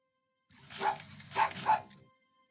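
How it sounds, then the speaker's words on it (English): A pet dog in a video game gives a short burst of two or three close, small barks and yips, standing alone against silence. "Some barks as well."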